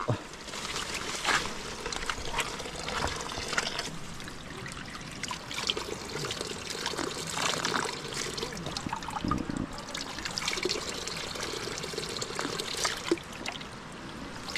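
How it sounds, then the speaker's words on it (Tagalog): Cold spring water trickles and pours continuously outdoors, a bright, splashy dribble heard close up that persists throughout with faint background activity. "iinom po tayo ng tubig din sa bukal"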